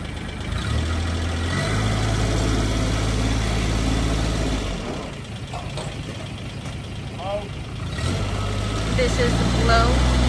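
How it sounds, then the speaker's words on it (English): A 2008 Kubota RTV900 utility vehicle's engine idles close by with a low steady rumble, easing off midway, then returning to a firmer drone as a throttle change follows; a voice speaks faintly over it. "This is a Kubota RTV900."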